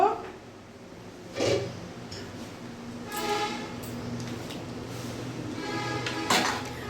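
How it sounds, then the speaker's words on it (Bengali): A metal lid lifts off a cooking pot on a gas stove while khichuri cooks, giving a few short clanks and scrapes, with a person talking quietly over the kitchen background. "এবার আমি ঢাকাটা খুলে দেখব"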